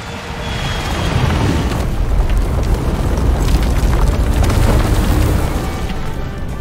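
A loud, sustained rumbling boom from the video game Contra Operation Galuga as a downed enemy explodes, rolling on for several seconds with no talk.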